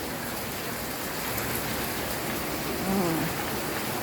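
Heavy rain pours steadily on surfaces during a flood at home, a dense continuous hiss with no pauses and a faint voice briefly audible near the end.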